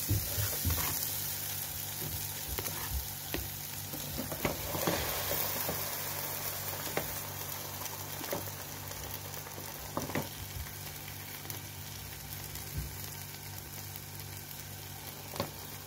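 Toast frying in plenty of oil in a pan, a low, steady sizzle with scattered crackles and pops running throughout, fairly quiet and close, with no voices.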